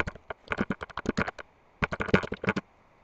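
Someone typing on a computer keyboard, rapid clusters of crisp close key clicks in two bursts separated by a short pause, with no talk over it.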